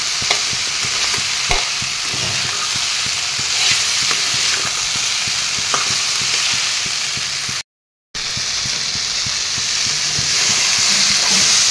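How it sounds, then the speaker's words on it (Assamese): Steady, loud frying sizzle of soya chunks in a pan with occasional stirring scrapes, continuous throughout with a brief silent gap near the end. "অলপ টাইম ভাজি ৰাখিম"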